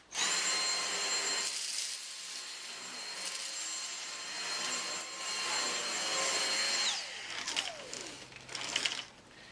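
A Dyson DC59 Animal cordless vacuum cleaner runs with a high, steady whine while picking up sprouted lentils, and the motor's pitch drops as it switches off near the end, followed by a few rattling handling noises.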